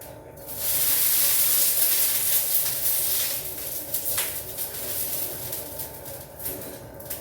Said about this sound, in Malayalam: കറിയൊക്കെ തിളച്ച് വന്നു.